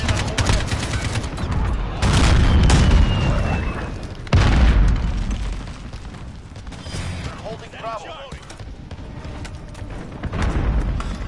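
Deep booms and bursts of gunfire fill a large-scale ground battle in Call of Duty: Modern Warfare as a tank fires. Heavy blasts land near the start and middle, with rattling shots and rumble between them.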